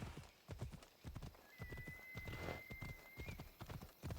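A galloping horse in Assassin's Creed Odyssey, quick repeated hoofbeats close by, with a brief whinny-like tone partway through.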